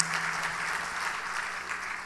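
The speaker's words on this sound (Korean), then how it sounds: "우리 박수로 한번 감사합니다" Congregation applause during an evening worship service in a church, a steady wash of clapping filling the room for about two seconds with a faint low hum beneath.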